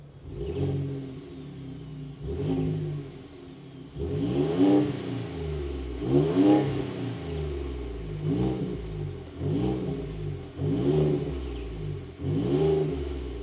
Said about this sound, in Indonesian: suaranya nggak berisik ya tapi ada ada sedikit raungan V6-nya